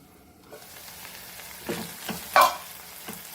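Potatoes, prawns and Goan sausage cook together in a pan with a soft sizzle. A few stirring scrapes and knocks stand out, the loudest near the middle, and no one speaks.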